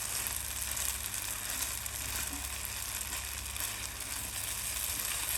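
Homemade khoya being stirred into colorful vermicelli in a pan gives a soft, steady sizzle and hiss throughout, fairly faint and even, with no talking.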